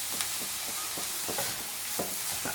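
Onions for egg bhurji curry sautéing in a pan with curry leaves, a steady sizzle under regular scraping strokes of a spoon stirring them, close and even, with no talk.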